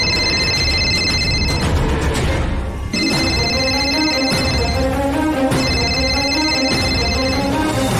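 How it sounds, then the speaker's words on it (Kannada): A phone ringtone trills in repeated bursts, separated by short pauses, over steady background music in a Kannada TV drama scene. "ಫೋನ್ ಇಲ್ಲೇ ರಿಂಗ್ ಆಗ್ತಿದೆ"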